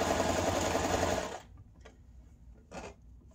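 A sewing machine stitching fabric for a scrunchie runs in a fast steady whir, then stops abruptly, followed by a couple of brief mechanical clicks and a short burst near the end, close and clear.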